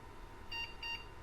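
Two short electronic motherboard POST beeps from an Acer PC, evenly spaced, over a steady low hum of fan noise.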